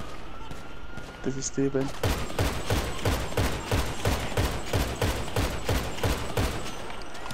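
Marksman rifle fire in GTA V, a rapid run of loud, evenly spaced shots lasting several seconds, with a brief spoken remark near the start.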